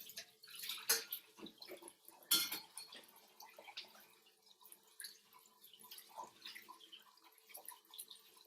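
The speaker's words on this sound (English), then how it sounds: "Drain it and then rinse it with some cold water." Cooked rice is drained and rinsed under cold running water in a kitchen sink. The sound is soft splashing and trickling, fairly faint, with a couple of louder pours.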